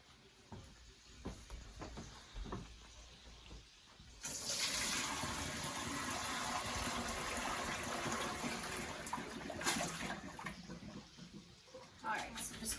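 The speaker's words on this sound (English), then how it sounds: "So I'm gonna turn off the heat and we're gonna drain it." Water from cooked pasta pours out of a pot into a drain, a steady loud rushing gush lasting several seconds after brief quieter kitchen sounds.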